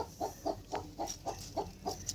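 A farm hen clucks in a steady run of about eight short, evenly spaced clucks, close and clear with no talking over them.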